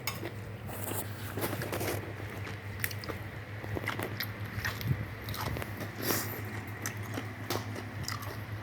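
Steady crunching and biting, as of a crisp raw vegetable being chewed close up, with a constant low hum in the background.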